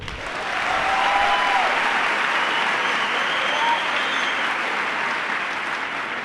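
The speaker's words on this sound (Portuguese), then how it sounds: "Quem está me ouvindo pode aplaudir." Audience applause swells quickly and holds steady and full for several seconds, a dense wash of clapping from a crowd.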